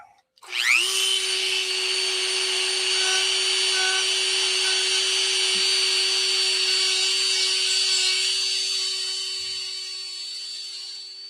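Dremel rotary tool working on a tank: it spins up quickly into a loud, sustained high whine held for about ten seconds, with faint contact ticks, then fades slightly toward the end.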